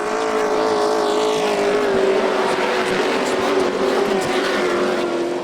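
Pro trucks race on the dirt oval at Volusia Speedway Park, a loud sustained engine roar with a steady droning pitch as the field comes off turn four.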